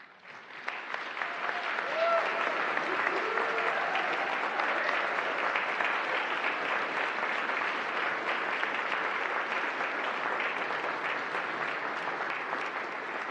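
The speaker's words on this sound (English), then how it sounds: "we'd like to give you a round of applause" Sustained applause from a church congregation honoring religious education volunteers, steady and broad from start to finish with no one speaking over it.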